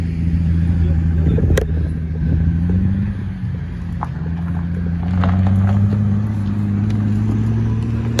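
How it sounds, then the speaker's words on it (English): Pagani Utopia test car passing close by, a steady low engine drone that swells and shifts in pitch as it goes past, with people talking over it. "That's a Utopia test car."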